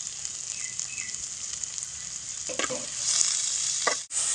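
Onion and tomato sizzle and fry in a pan for a Tamil ridge gourd dish, giving a steady close hiss with a few spoon scrapes and stirs that swell louder near the end.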